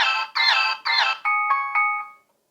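A card payment terminal plays a short electronic notification chime: three bright tonal bursts followed by a few steadier beeping tones, clean and close with no talk.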